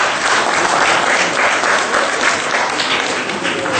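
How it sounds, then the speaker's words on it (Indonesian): Sustained audience applause at a Dhamma talk, a loud, dense, steady wash of many hands clapping with no voices over it. "Tepuk tangan untuk anak-anak kita yang berbakti."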